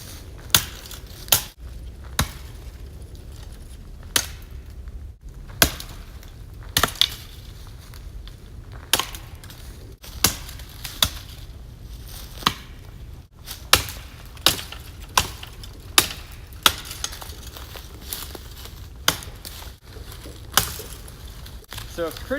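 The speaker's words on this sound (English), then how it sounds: "and I'm just gonna chop." A Carnivore X chopper hacking limbs off a felled tree, sharp woody chops landing one after another at an irregular pace, loud and close, with quiet stretches between strikes.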